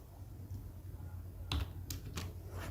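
A few quick keystrokes on a computer keyboard enter text into an Excel cell, soft clicks landing in a short cluster after a quiet stretch with a low background hum.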